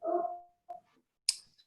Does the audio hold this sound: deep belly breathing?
no